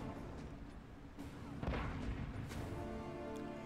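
Artillery cannon fire in the Iron Harvest video game: scattered booms and dull blasts over a dense battle rumble, with one heavier impact partway through and faint voices underneath.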